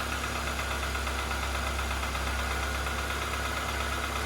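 Ford Fiesta engine idling with about 39,000 miles on it, a steady, even mechanical hum and rumble with no variation, close and continuous throughout.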